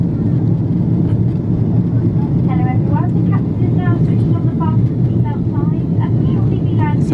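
Steady, loud roar of cabin noise aboard a British Airways Boeing 777 airliner in flight on approach to Gatwick, a constant engine and airflow drone with faint voices talking beneath it.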